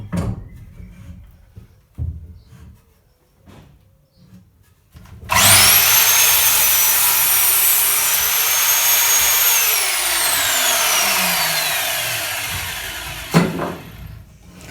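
A power saw cuts ceiling battens in a narrowboat: a few faint knocks first, then a loud, sustained high-pitched whine as the blade runs through the wood for several seconds before it winds down, followed by a sharp clunk.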